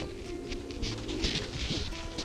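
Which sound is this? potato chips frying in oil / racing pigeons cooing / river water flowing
racing pigeons cooing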